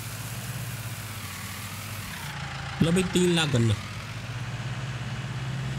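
Steady low engine drone of a New Holland Workmaster 75 tractor in Farming Simulator 19, idling while hauling a sugarcane-loaded trolley, running continuously beneath a short burst of male speech in Hindi.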